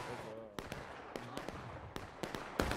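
Gunfire from soldiers in a Civil War era video game battle, a string of sharp distant rifle cracks at irregular intervals under a person talking.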